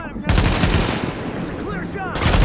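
Suppressive automatic gunfire in the shooter Tom Clancy's The Division, with two loud bursts of rapid shots separated by a slightly quieter stretch, close and dense, with a voice faintly underneath.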